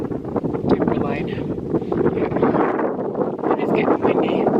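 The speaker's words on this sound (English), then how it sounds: "It is getting windy." Strong wind buffets an exposed mountain summit under gathering rain clouds, a steady broadband roar with gusty swells and microphone rumble throughout, loud and close, with no talk.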